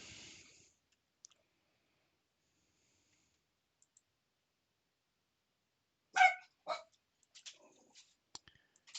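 A dog barks a few times up close, sharp separate yaps with short gaps, then a scatter of lighter clicks and yips after a long quiet stretch.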